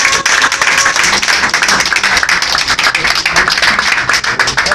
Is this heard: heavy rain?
no